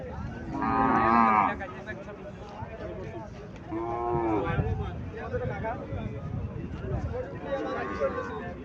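A Sahiwal dairy cow moos several times on a farm, close and fairly loud, with low calls recurring through the clip amid background voices and murmur.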